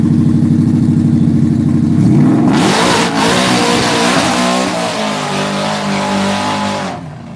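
A supercharged 2013-14 Shelby GT500 with a 5.8 engine and a 3.4 liter Whipple accelerates hard at a high-speed mile event. The engine is loud and close, its rising whine and roar swelling and shifting before trailing off at the end.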